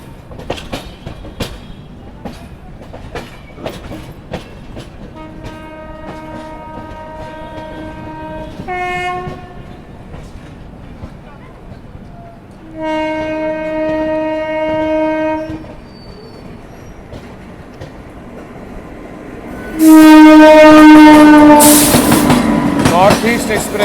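An oncoming express train passes on an Indian railway line, its horn sounding in long, steady blasts that grow louder and end in a loud, close roar of the passing train over rumbling, clattering wheels.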